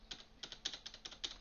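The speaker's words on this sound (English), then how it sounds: "after clicking the space bar" Computer keyboard space bar pressed repeatedly while making a Scratch Space Invaders game, giving six crisp, evenly spaced clicks close to the microphone with no talk.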